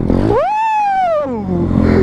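A 125 CRZ dirt bike engine revs hard during a wheelie, its tone climbing quickly, holding high for under a second, then dropping away, loud and close.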